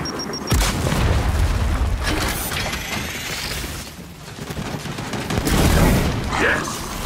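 A frag grenade explodes in Gears of War 5 horde combat, one of several loud booms mixed with gunfire and battle noise.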